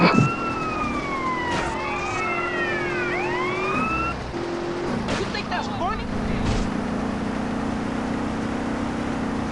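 A police car siren in the video game GTA San Andreas wails with sweeping, overlapping tones for several seconds over steady engine rumble, then cuts out and gives way to game noise.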